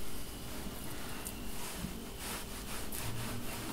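A thick-bladed Extrema Ratio knife works through meat to trim off excess fat, giving a soft, continuous rasping scrape with repeated rubbing strokes, fairly faint and close, with no talk.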